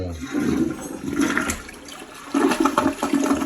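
A toilet flushes with a loud, close rush and swirl of water, pausing briefly before a second strong surge, without talk.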